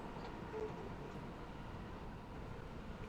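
Steady low rumble of a train being driven in the Train Sim World 6 game on the Glasgow to Edinburgh Waverley line, faint and continuous, with no talk.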